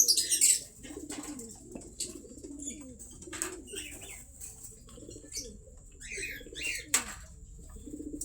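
A racing pigeon readied for a final-lap race gives soft, repeated coos after a brief burst of flapping wings at the start, close by in a quiet setting.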